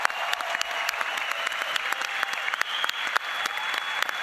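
A crowd claps for public universities at a Brazilian government event, a dense steady round of applause with sharp individual claps standing out, loud and close throughout.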